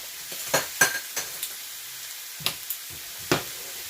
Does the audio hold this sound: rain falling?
no